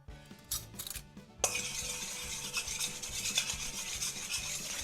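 Water and a quarter teaspoon of baking soda being stirred in a pan, a steady scraping rub that starts softly and grows louder after a brief pause, continuing as a close, even rasp with no talk.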